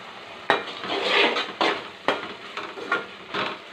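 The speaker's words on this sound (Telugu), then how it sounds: "ఇప్పుడు ఉడుకుతుంది కదండి" Lentils and leafy greens cooking in a pan, stirred with a utensil that knocks against the metal in a series of close scraping clanks over a soft sizzle.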